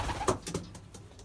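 Belgian racing pigeons in their loft, soft throaty cooing and a few short calls close by, mixed with light shuffling and faint clicks.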